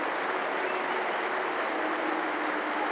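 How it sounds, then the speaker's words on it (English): Crowd applause at a cricket Test match at The Oval, England against New Zealand, as a batsman raises his bat: a dense, sustained roar of clapping from a large stadium crowd, broad and even, without a break. "the crowd raising to their feet as Joe Root acknowledges that applause"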